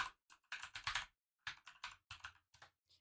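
Keys on a computer keyboard are typed in short, quiet bursts of crisp clicks with brief pauses between groups, heard up close with no talking.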